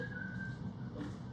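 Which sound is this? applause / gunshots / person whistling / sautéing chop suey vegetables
person whistling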